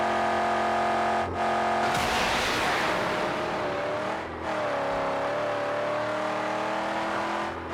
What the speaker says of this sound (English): I can appreciate the sound of a good engine